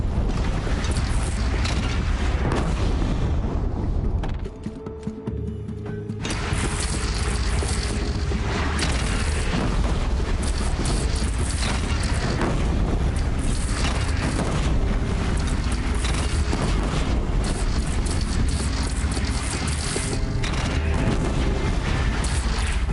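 Bandits' cannon fire in the action game Horizon Zero Dawn booms heavily amid a dense, continuous din of mechanical battle noise, with one brief lull before the loud rumble resumes.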